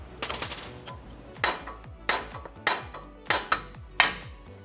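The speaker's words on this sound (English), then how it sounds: "take a punch here and try to hit the ball joint out from the bottom of the spindle" A punch hammered to drive the lower ball joint out of the spindle on a 2023 Nissan Frontier Pro-4X, a run of sharp metallic strikes, about a dozen close blows, quicker at first and then spaced out, no talk.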